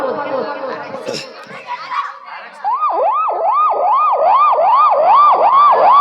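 At a mimicry performance, a voice imitates a wailing ambulance siren, rising and falling in a steady repeating cycle after some brief chatter.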